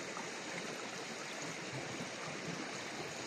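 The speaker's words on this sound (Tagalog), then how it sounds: "Ito, ilog oh." A river stream rushes in a steady, even wash of flowing water, continuous and moderately distant, outdoors in nature, with no talk.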